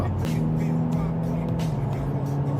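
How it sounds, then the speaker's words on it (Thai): Mercedes-Benz CLS53 AMG exhaust in normal comfort mode, a steady low engine drone with a firm constant hum, fairly loud and close, no talking over it. "โหมดธรรมดา ฟังเสียงท่อ"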